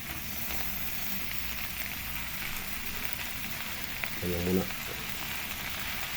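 Kangkong leaves fry in a small pan with a dense, steady sizzle throughout, while a short voice speaks briefly near the end.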